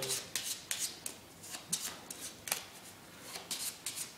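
A deck of playing cards is shuffled for a magic trick, producing a steady rhythm of about a dozen crisp riffling snaps, close up and alone.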